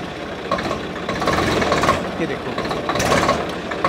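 A tractor engine pulls away in high gear, a loud, busy mechanical roar with rising effort through the middle and a surge near the end, close to the listener over broad background noise.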